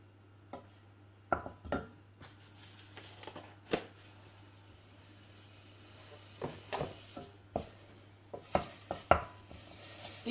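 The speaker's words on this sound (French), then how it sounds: "Nous allons pouvoir faire rissoler ici les légumes dans la casserole." Vegetables sautéing in a little vegetable fat in a saucepan, a faint low sizzle broken by sporadic clatters and scrapes of stirring, close but quiet.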